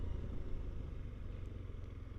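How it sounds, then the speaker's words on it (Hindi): A TVS Apache RTX 300 motorcycle engine pulls steadily in third gear at low speed, a continuous low rumble heard from the rider's position with no talk over it. "इंजन बिल्कुल स्ट्रगल नहीं कर रहा है, ये देखो"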